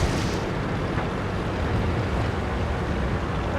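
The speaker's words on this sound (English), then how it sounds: "Yep, still lots of artillery fire coming down." Dense, constant rumbling roar of artillery fire and explosions in a tank video game, a continuous low heavy wash of blasts with no distinct breaks, loud and unbroken throughout.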